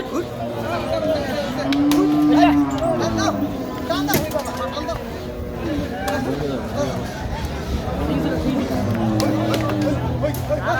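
Cattle lowing at a crowded Bangladeshi livestock haat during the Qurbani season, with several moos rising over constant crowd babble and nearby bargaining voices.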